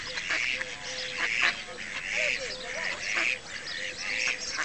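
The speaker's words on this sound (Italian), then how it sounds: "c'è 2 pulcini di germano!" Mallard ducklings and waterfowl at a lake call in a steady series of high peeping and honking notes, fairly close, with a voice faintly underneath.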